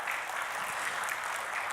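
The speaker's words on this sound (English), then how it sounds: "give her a round of applause" Applause from a seminar audience for a startup talk, a short, even wash of clapping with no voices over it.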